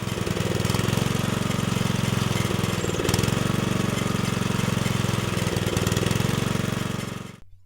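A small engine drives a multi-purpose rotary tiller for farm use, running loud and steady with a rapid pulsing beat, then cutting off abruptly at the end.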